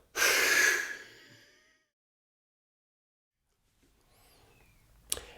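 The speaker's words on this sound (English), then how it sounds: "So inhale, exhale." A deep breathing exhale during a lung-focused breathing exercise comes as one strong, close breath rush that fades over about a second, followed by silence, then faint rustling and a small click.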